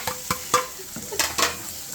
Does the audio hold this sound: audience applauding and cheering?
no